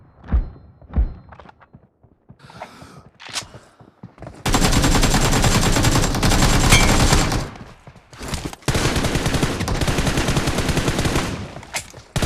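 Gunfire in the mobile battle royale game PUBG Mobile: a few scattered single shots, then two long, loud bursts of rapid automatic fire separated by a short pause.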